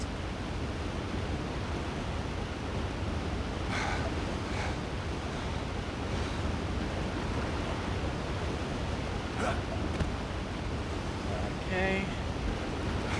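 A steady, broadband rush of falling water from a jungle waterfall in the Indiana Jones game set in Ceylon, continuous and full throughout with a few faint brief sounds over it.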